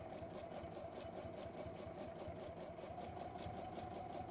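A sewing machine runs steadily throughout, stitching all the way around a piece with a stitch length around 3.2 to 3.4, a continuous close mechanical whir with rapid needle rhythm and no talking.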